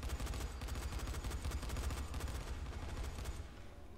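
Rapid gunfire rattles continuously while shooting at zombies in the video game Dying Light: The Following, a dense burst of repeated shots heard fairly quietly with no talking over it.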